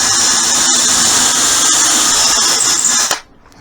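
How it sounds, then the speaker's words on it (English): A power drill bores a hole through wood for a clamp storage rack, a loud steady high-pitched whine held for about three seconds before cutting off abruptly. "So just get the drill hole through there"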